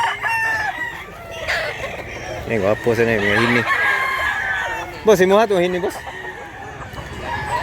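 Gamefowl roosters on a Cebu gamefarm crow twice in loud, wavering calls close by, with someone talking over and between the crows.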